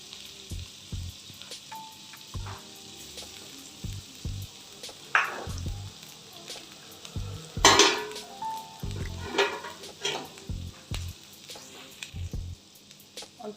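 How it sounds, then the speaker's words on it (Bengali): Bread slices sizzle in butter with a little onion on a hot flat griddle. A spatula knocks and scrapes in irregular bursts, with a louder hiss in the middle as the pieces are moved. It is close and fairly quiet. "পাউরুটিগুলোকে বাটার দিয়ে আমি এগুলো ভেজে নেবো"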